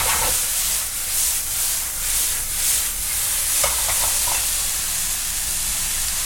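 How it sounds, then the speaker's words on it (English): Pasta goes into a hot pan for black truffle ramen, giving a loud, continuous steamy sizzle and hiss with brief stirring clicks partway through. "now I'm gonna add the pasta"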